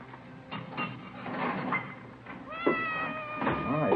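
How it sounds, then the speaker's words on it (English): A Siamese cat meows close by, a few drawn-out, rising cries over a steady background hum in an old radio drama. "It's a nice cat you got there. Siamese?"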